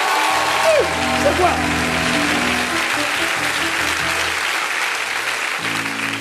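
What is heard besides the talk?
audience applauding and cheering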